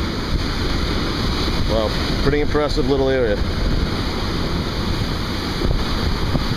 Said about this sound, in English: when the ocean and the waves come rolling and banging in here